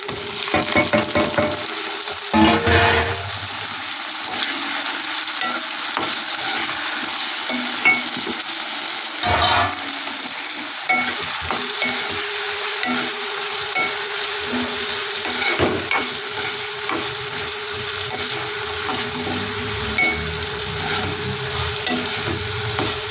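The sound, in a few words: tomatoes frying in a pan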